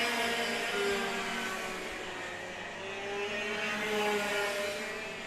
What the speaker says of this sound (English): Multiple engines sound very different. On occasion, they're very different engine notes.